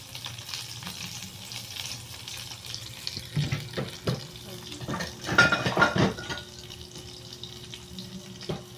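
Food frying in a small amount of cooking oil, a steady sizzle with pan and utensil clatter building in the middle of the clip, close and moderately loud with no talking.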